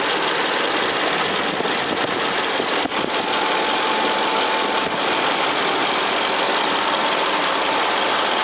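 A 2003 Mercedes CL55 AMG engine idles loudly and steadily up close after power steering pump replacement, a constant rumbling drone with slight vibration and no talking.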